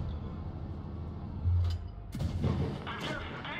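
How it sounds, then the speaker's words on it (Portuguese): Tank cannon fire from a Chieftain Mk. 6 in the World of Tanks Blitz video game: several heavy booms in quick succession over a steady low engine rumble. "Então vamos pegar uns tirinhos nela também."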